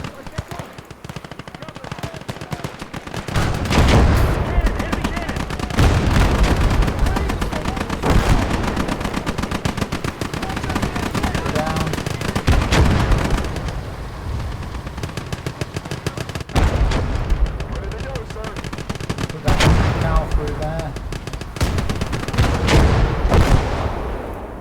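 Artillery and gunfire in a war video game: rapid machine-gun bursts and heavy booming blasts come in repeated waves, loud and dense, with bits of game voices mixed in.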